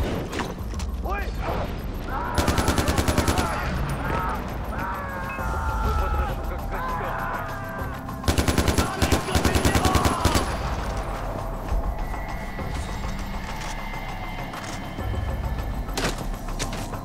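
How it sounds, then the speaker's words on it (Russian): Hunters open fire from all sides in Far Cry 4, with two loud rapid bursts of automatic gunfire separated by mechanical clatter and rumbling ambience, while a voice talks over the action. "меня охотники со всех сторон палят и стреляют"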